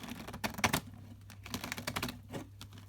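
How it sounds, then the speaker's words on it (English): A deck of tarot cards is shuffled by hand nearby, with rapid bursts of crisp riffling and papery snaps in uneven clusters and no speech. "Did I show you my shuffling?"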